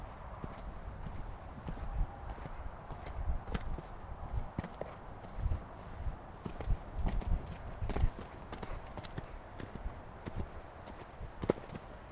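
A horse's hooves beat in a steady canter across the whole stretch, with a rhythmic clip-clop and soft thuds as it approaches a jump, close by and moderately loud.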